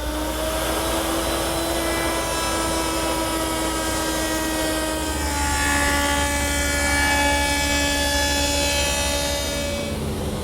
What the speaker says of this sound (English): I want to start by cutting this detail at the router station.